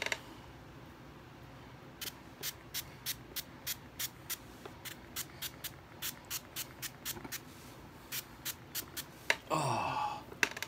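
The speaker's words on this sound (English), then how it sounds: "Okay, it's stuck, so I'm gonna spray some of this." Repeated short bursts from an aerosol spray can aimed at a stuck wound dressing, roughly a dozen quick hissing puffs in an irregular rhythm, close and fairly quiet, ending in a louder rustling scuffle.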